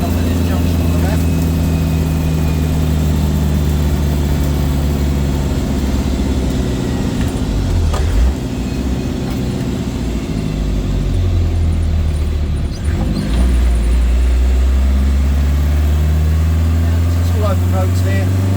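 A Land Rover 110 on a country drive, its engine droning steadily from inside the cab with revs dipping at gear changes, loud and constant, while someone talks over it.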